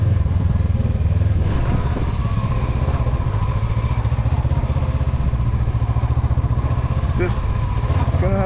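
A 2022 Honda CB500X motorcycle engine runs at a loud, close, rumbling idle with steady rapid pulsing, the bike lurching during low-speed practice, while a rider talks over it.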